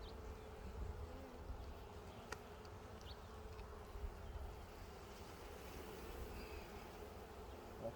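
A dense swarm of honey bees hums steadily around an open beehive, a soft, continuous buzz with individual bees droning close by now and then.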